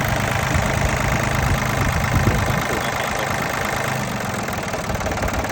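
A small Japanese-imported ISEKI or Kubota tractor's three-cylinder diesel engine idles close up, a loud, steady, rough chugging rumble with no pauses or voices.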